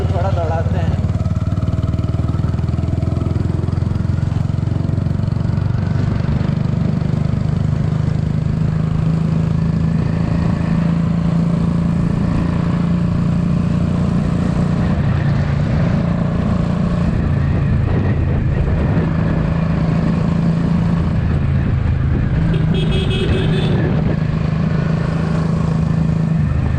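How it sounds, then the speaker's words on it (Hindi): A Royal Enfield Bullet motorcycle with a loud exhaust accelerates, its thumping engine roaring loud and unbroken from close by for nearly half a minute. "मज़ा आ गया भाई लाउड एग्जॉस्ट के साथ।"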